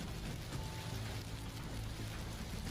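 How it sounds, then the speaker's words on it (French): Dense, steady patter of icy rain hitting surfaces in Texas City, an even hiss with no letup. "Une drôle de pluie de glace à Texas City."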